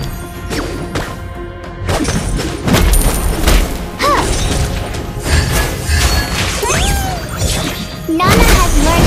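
Turret under attack in the Mobile Legends game during a hero fight, with dense crashing impacts, thuds and booming skill effects layered over game music and an announcer's voice throughout.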